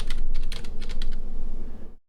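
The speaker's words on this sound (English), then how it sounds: "you can start typing." Fingers type quickly on a computer keyboard, producing a close, continuous patter of keystrokes for about two seconds before it stops abruptly.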